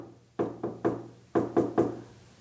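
Knocking on a door in two quick bursts of three raps each, close and fairly quiet, with no voices.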